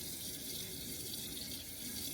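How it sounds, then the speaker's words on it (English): Tap water runs steadily into a kitchen sink during dishwashing, a quiet continuous hiss and splash without any talking. "I don't know if you can hear that over the sink water or washing dishes"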